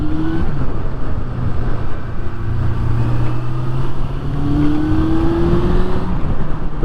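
A Suzuki Bandit 600 motorcycle engine with an idle problem runs unevenly and has to be held on the throttle, its drone rising and falling slightly, close and fairly loud.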